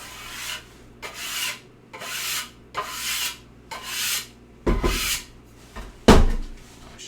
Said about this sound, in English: We'll just kind of scrape it off to make sure there's nothing left on there except for the sawdust